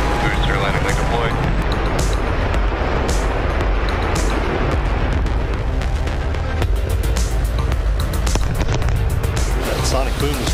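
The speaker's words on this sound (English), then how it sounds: "That sonic boom is great for us. That thunderclap broke the sound barrier." Sonic booms from a returning SpaceX Falcon 9 booster, B1080, landing after a Starlink launch thud through a loud, continuous roar of wind and crowd noise, with people talking throughout.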